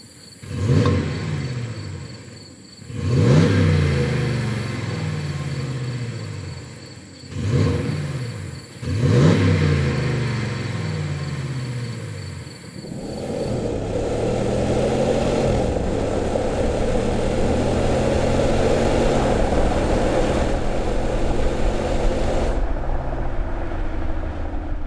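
A Ram 5.7 HEMI V8 on its stock exhaust revs in several short, sharp blips, then holds a long, steady higher rev before cutting off, a fairly muted, smooth engine note heard close and alone.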